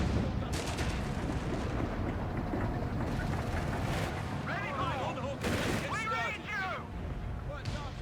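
Booming artillery and anti-tank gun fire from a 17-pounder in Company of Heroes 3, mixed with battle rumble, with a few sharp blasts standing out over steady war-game background noise and a voice speaking over it.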